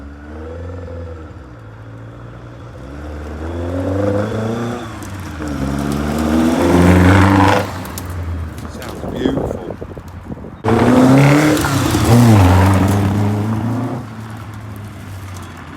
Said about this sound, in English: Chris is just going to give it a little run up and down the yard